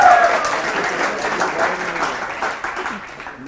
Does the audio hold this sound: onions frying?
no